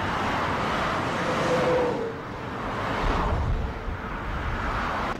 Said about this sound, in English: These types include highway traffic.